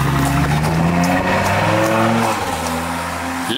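A car engine in a nearly finished garage revs hard and loud, pitch climbing and falling in several sweeps before settling to a lower steady drone, heard up close with no talk.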